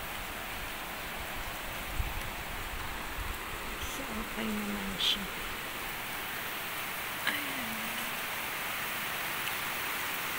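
Rain pours steadily during a typhoon as a dense, loud hiss of drops on surfaces at a home with a santol tree, gusty wind mixed in; a person speaks briefly over it and a couple of faint knocks sound.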